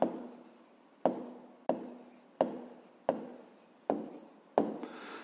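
Pen writing out the answer to a fifth-grade math exercise: seven crisp, close strokes, each a sharp scratch fading quickly, coming at a steady pace about every three-quarters of a second with no talking.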